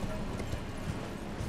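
Rapid hoofbeats of a galloping horse mount in the video game Elden Ring pound steadily under a dense, noisy game soundscape, with no talking.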